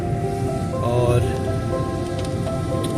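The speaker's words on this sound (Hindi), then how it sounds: "बारिश का ज़ोर भी टूट गया है" Heavy rain falls steadily on surfaces outdoors near a bridge with a passing train, a dense continuous wash with a low hum underneath, fairly loud and constant throughout.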